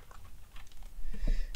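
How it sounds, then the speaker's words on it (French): Fast, close clicking of keys being typed on a computer keyboard, a busy burst of taps with no speech. "je fais du bon bruit avec mon clavier"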